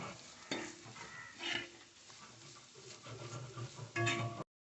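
Spoon stirring masala unda mixture in a hot pan, scraping strokes over a low sizzle, with a few louder stirs near the start, middle and end.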